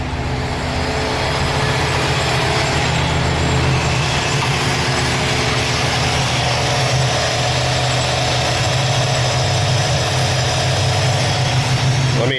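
A Chevrolet Cavalier engine, rear-wheel-drive with a nitrous setup, idles steadily on a dyno with no cooling fan running, a loud continuous rumble that holds for the whole stretch.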